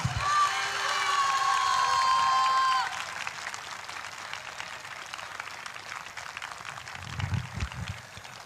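Congregation applauding in thanks at a church prayer service, loud sustained crowd clapping and cheering with a tonal whine at first, then fading into softer scattered clapping and room noise.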